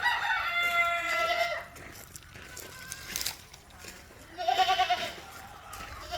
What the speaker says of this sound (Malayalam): നല്ല പാലില്ല ആടുകൾ.